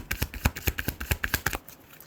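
Oracle cards shuffled by hand, a quick run of about a dozen crisp, close flicks and slaps in an uneven rhythm that fades out at the end.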